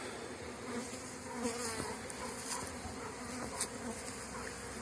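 Honey bees buzz steadily around opened beehives set out in the sun with honeycomb uncapped, a dense, continuous hum from many insects close by with occasional louder passes near the microphone.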